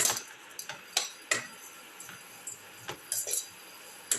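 Ginger cauliflower and potatoes sautéed in a pan with salt paste, heard as a series of light metallic clinks and scrapes of a utensil against the pan, spaced irregularly over a quiet background.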